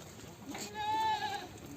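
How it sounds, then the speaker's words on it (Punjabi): A goat bleats at a busy goat market, one drawn-out wavering call rising clearly over a background murmur of crowd noise and distant voices. "ਚੰਗੀ ਬਹੁਤ ਬੱਕਰੀ ਆ"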